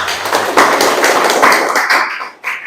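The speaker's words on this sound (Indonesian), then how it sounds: "tepuk tangan untuk kita semua" A classroom of students in Indonesia breaking into loud, close applause, dense overlapping claps that carry on steadily before tapering off and ending with a final few scattered claps.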